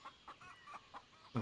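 Chicken clucking in the survival video game Gone Survival, a few short soft clucks spaced at an uneven rhythm, then a louder squawk at the end, faint and with no talk over it.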